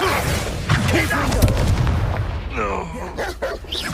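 Expelliarmus spell cast in the wizarding game Hogwarts Legacy, heard as booming magical blasts and sharp pops mixed with busy combat effects, with voices talking over the fight.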